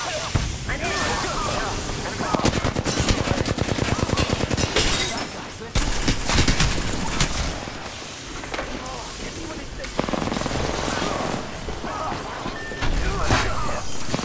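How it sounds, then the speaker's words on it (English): Apex Legends gunfire rattles almost nonstop in dense automatic bursts, loud and close, mixed with game effects and in-game character voice callouts. "Opening fire. Taking fire."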